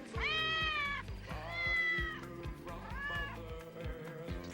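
A cat meows three times, each cry drawn out and wavering, loud and close, over a rhythmic low thumping background.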